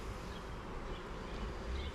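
Honeybees from a package colony swarm around hive frames two months after installation, a thick, steady buzzing at close range, loud and unbroken.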